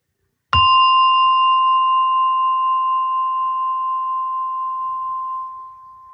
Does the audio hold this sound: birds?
no